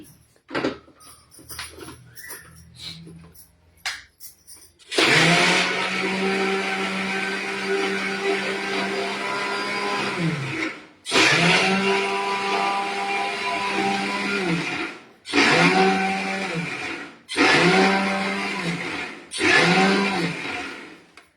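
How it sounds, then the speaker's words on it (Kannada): A mixer grinder whirs loudly for several seconds while grinding chana dal fine, then runs in shorter pulsed bursts, a steady harsh motor drone with gritty grinding. "ಈ ಕಡಲೆಬೇಳೆಯನ್ನ ನುಣ್ಣಗೆ ರುಬ್ಕೋತೀನಿ"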